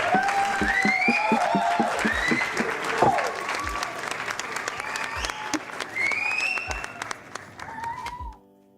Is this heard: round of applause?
yes